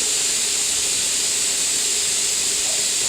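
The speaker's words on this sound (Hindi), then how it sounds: "ये कुकर में भी सीटियाँ मारनी शुरू कर दी हैं।" A pressure cooker whistles on the stove while dal and rice cook for lunch, a steady, loud, continuous hiss of steam with no breaks.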